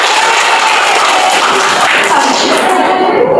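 Pupils in a classroom clapping game clap together in a loud, dense burst that runs without a break for a few seconds, close by.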